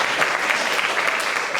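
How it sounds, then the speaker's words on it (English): Loud, continuous applause from a crowd at a jazz camp performance, close and sustained throughout. "Please give them a big round of applause."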